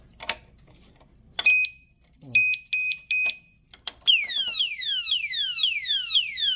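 A padlock theft alarm for a gate or motorcycle gives several short, loud piercing beeps, then breaks into a continuous warbling siren that rises and falls repeatedly, with handling noise early on.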